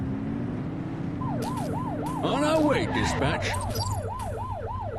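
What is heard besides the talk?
police car siren blips in The Precinct video game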